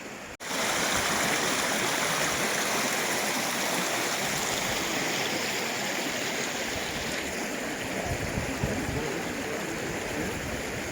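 Creek flowing along a hiking trail, a steady broadband rush of running water that fills the whole stretch at close range, with no talk over it.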